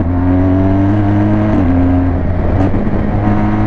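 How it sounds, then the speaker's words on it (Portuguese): Motorcycle engine held at high revs during a fast ride, with a steady harmonic drone that dips briefly as gears shift, loud and close throughout with no talking. "essa moto é braba mesmo, ela muda de marcha sozinha"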